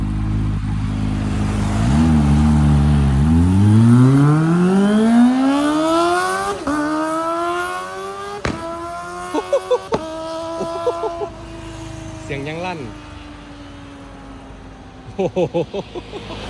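A Kawasaki Ninja 400 or ZX25R motorcycle engine revs through its exhaust, climbing in one long loud rising sweep that holds a high whine, broken by sharp shift cuts and bursts of crackling pops.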